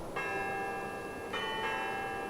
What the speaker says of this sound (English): it's different patterns for the bells